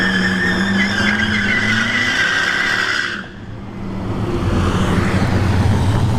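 A 4th gen Camaro drag car called the Catfish, fitted with a front mount intercooler, revs loudly at a test-and-tune dragstrip, dips briefly, then surges again with a broad roaring launch and tire noise.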